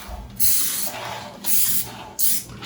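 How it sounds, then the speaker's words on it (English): Cooking spray is sprayed onto Teflon-coated bread baking pans in three loud, close hissing bursts, each lasting about half a second, separated by short pauses. "we have pans that I just use a little bit of spray"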